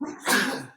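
A single sharp sneeze bursts out close by, a quick breathy explosion lasting under a second in a quiet indoor podcast setting.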